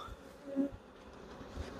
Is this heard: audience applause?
no